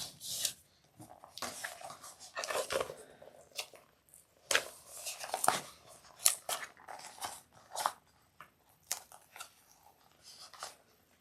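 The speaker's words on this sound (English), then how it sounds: "So I'm just going to take that tape out." Tape peeled away from fabric pieces of a handbag being sewn: repeated short ripping and crinkling bursts, close and irregular, with quiet gaps between pulls.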